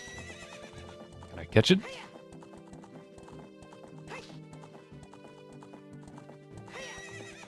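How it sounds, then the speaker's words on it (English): Horse galloping and neighing in Zelda 64 (Spaceworld '97 beta), a close clip-clop of hooves with a loud whinny near the start and more neighs later, under game music and with a voice speaking. "That's Zelda's horse."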